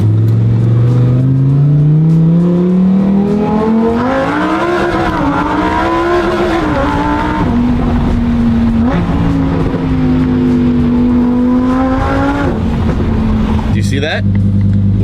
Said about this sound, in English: I love this car. It sounds so good.